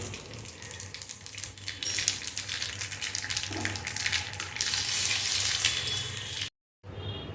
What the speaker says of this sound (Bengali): তেলটা গরম হয়ে গেছে। এতে দেব 2টো গোটা শুকনো লঙ্কা এবং 1/2 চামচ কালো জিরে।